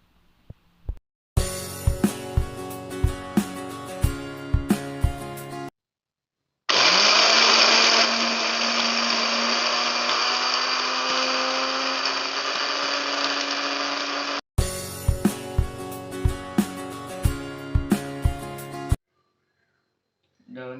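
An electric blender grinds dried betel leaves in one sustained, loud, whirring burst lasting several seconds. Rhythmic musical beats play before and after it.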